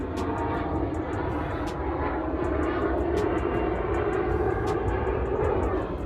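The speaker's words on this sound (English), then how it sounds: "so there's airplanes that fly by like every 10 minutes" An airplane passing overhead near an airport, a loud, steady engine roar and rumble filling the whole stretch without a break.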